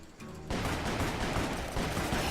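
Gatling gun firing in Call of Juarez, a dense continuous roar of rapid shots that starts abruptly and keeps going loud and unbroken.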